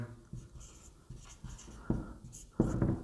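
Pen writing a trigonometry formula on paper, close up: a series of short scratchy strokes with brief pauses, growing firmer toward the end, no voices.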